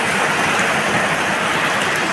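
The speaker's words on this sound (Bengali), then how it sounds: "প্রচুর বৃষ্টি হচ্ছে, প্রচুর বৃষ্টি।" Heavy rain pours steadily and loudly for the whole span, a dense, even hiss with no pauses and no voices over it.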